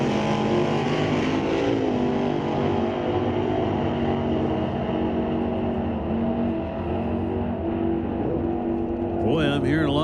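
Drag racing cars at an NHRA Northwest National Open Series event at Mission Raceway idle loudly with the throttle blipped ahead of launch, a sustained close engine drone under a faint announcer's voice.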